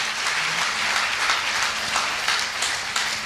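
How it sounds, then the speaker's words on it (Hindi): An audience gives sustained applause at a SafeShop student event, a dense, continuous wash of clapping from many hands that carries on for the whole few seconds. "तो मैं चाहूंगा ऐसे सेफ शॉप इंडस्ट्री के लिए एक जबरदस्त तालियां होनी चाहिए।"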